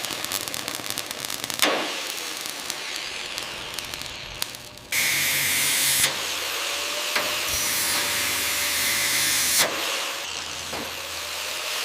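A vacuum cleaner runs during the restoration of a 1967 BMW 1600 GT, giving a loud, steady roaring hiss that surges louder partway through and continues with a faint whine.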